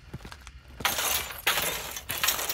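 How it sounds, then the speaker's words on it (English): Footsteps crunching over broken glass in the game Hunt: Showdown, a few bursts of bright shattering crunch close up, separated by short quiet gaps. "And walking on glass or cans."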